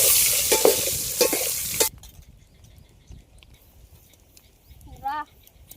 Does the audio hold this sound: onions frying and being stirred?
yes